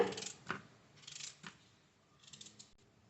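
Raw mango is cut into cubes with a knife in a few quick, close, crisp strokes separated by short pauses, in a quiet kitchen.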